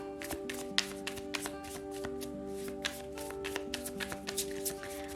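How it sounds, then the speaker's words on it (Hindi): Tarot cards shuffled by hand during a Virgo reading, a steady run of soft, close riffling and tapping flutters, with a faint tonal hum underneath and no talk. "तो चलिए शफल कर लेते हैं कन्या राशि वर्गो साइन के लिए।"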